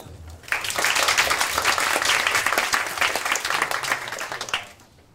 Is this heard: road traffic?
no